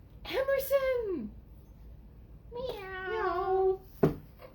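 A cat in a puppet show meows: two drawn-out, pitch-bending meows and then a short sharp one, close and fairly loud against a quiet background.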